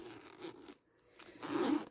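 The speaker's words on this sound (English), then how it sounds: "Look, it's got a zipper." A zipper on a vinyl kitty-themed card binder for art trading cards is pulled open in two short, close raspy runs separated by a brief pause, quiet and without talk.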